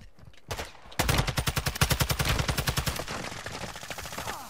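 Rapid automatic gunfire in Call of Duty DMZ, a loud close burst of evenly spaced shots lasting about two seconds, trailing into fainter repeated shots and a lingering echo.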